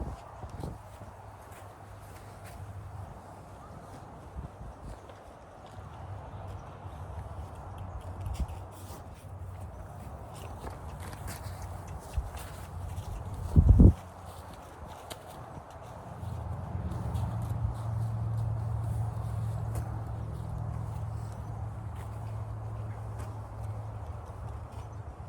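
A tacked-up horse's hooves give a steady, soft clip-clop on the ground nearby, continuing through the stretch and growing a little heavier toward the end, with a single sharp knock midway and no talk.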